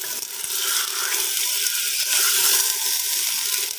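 Chicken fries with onion, garlic and ginger in a pot, a steady, dense hiss of sizzling oil, loud and close, running unbroken without any talk.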